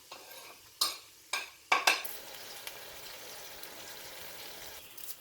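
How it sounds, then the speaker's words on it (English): Haleem ingredients fry in a pan with a soft background sizzle, broken by several sharp scraping stirs of a utensil early on, then a quieter steady frying. "So we have to fry this thing for maybe 5 minutes"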